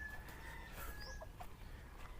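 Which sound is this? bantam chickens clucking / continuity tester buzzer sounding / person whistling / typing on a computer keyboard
bantam chickens clucking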